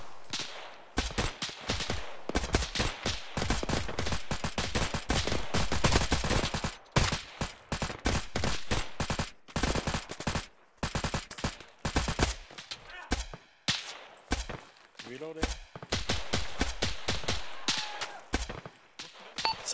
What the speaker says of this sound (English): Sounds like more snipers east.